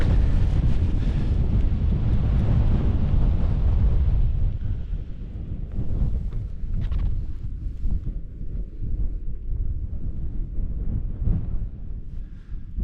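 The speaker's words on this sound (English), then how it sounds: "It's incredibly windy." Strong wind roars and buffets the microphone in constant gusts on a Scottish mountain summit, Meall Buidhe or Stuc An Lochain, in November, easing slightly after a few seconds but never letting up.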